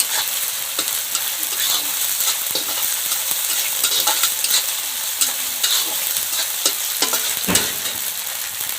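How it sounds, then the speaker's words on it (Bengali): Spice paste and green chilli paste fry in hot oil for a rohu fish curry, giving a loud, crackling sizzle with repeated scraping stirs of a spoon, heard close with no talking. "নাড়াচাড়া করে কাঁচা গন্ধটা যাতে চলে যায় সেইভাবে আমি ভেজে নেব।"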